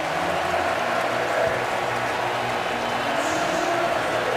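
Steady roar of a stadium crowd at an NFL game, Tampa Bay Buccaneers at New York Jets in 2013, a dense continuous wash of noise with no breaks, loud and even throughout.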